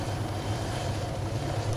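Helicopter in the video game Arma 3, during a tail rotor loss emergency landing: a steady, close rotor and engine drone with low thumping pulses, continuous and unbroken throughout, with no voices over it.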